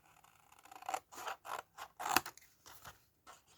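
Scissors cut through a cardboard box being made into a kangaroo jumping box, giving a run of close, quiet crunching snips in irregular bursts, with no talk.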